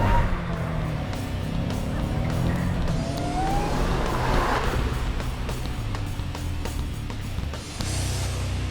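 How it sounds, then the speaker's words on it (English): A race car roars down a drag strip racetrack in a continuous loud engine rumble with wind and road noise throughout, no speech. "the car was able to go down the racetrack and run a number like that again"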